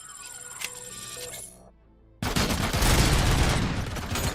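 Gunfire in RoboCop: Rogue City breaks in abruptly as a loud, dense barrage of shots that continues without pause after a brief quiet lull.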